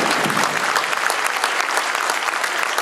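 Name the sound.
banquet audience applause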